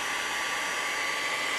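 A hair dryer blows steadily on a piece of artwork to dry it, a loud, constant close-up whoosh with no break.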